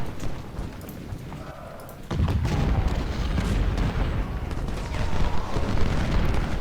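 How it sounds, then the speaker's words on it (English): Booming artillery fire in a Civil War battle from the strategy game Ultimate General: Civil War, a dense continuous rumble of cannon blasts that grows heavier after a quieter opening, with no voices. "enemy artillery is opening up fire more and more"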